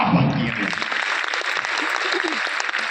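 An audience at a business seminar breaks into applause, a steady wash of clapping that holds at an even level throughout.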